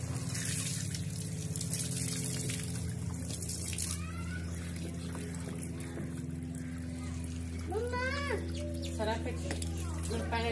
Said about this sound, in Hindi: मैं धो रही हूँ कपड़े, आपको दिखाऊंगी गांव में कपड़े कैसे धोए जाते हैं